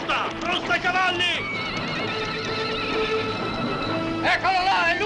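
Horses whinny and neigh repeatedly over galloping hooves during a chase in a Zorro western action scene, loud and close, with shouting voices mixed in.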